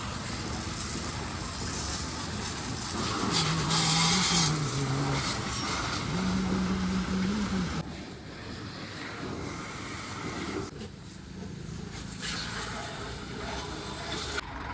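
A band's vehicle reverses, brought in for washing: a continuous engine rumble and drone nearby, loudest early on and then easing, with some tonal whine partway through.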